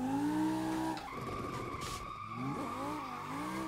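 Tire squeal from a 1,200 hp Lamborghini drift car running VDC 3.0 physics in Assetto Corsa, a loud continuous screech over engine whine that wavers and shifts in pitch as the car flicks around, with no talk.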